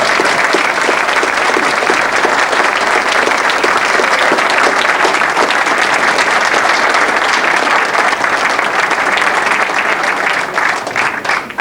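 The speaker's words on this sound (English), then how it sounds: "Could I ask you to put your hands together to a warm round of applause" Warm audience applause at a golf club presentation for a captain's day and drive-in, a dense, loud, steady wash of clapping from a crowd that holds throughout and tapers slightly at the end.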